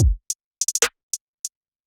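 Programmed hi-hat pattern in FL Studio, opening with a deep kick thump and then crisp, bright ticks in triplets with a quick stuttering roll in the middle, dry and isolated against silence.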